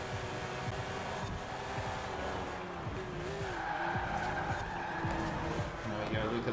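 A Porsche race car in a racing video game slides its back end over a bump, with a continuous engine roar and tire skid noise. Overlapping commentary voices run throughout.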